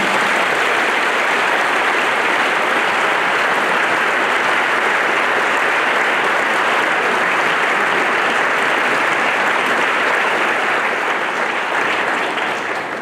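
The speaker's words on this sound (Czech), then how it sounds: "jeden velký dík, velký potlesk" Sustained audience applause at a school art concert celebrating the 240th anniversary of the arts school in Český Krumlov, a dense, even roar of many hands clapping steadily, easing slightly at the end.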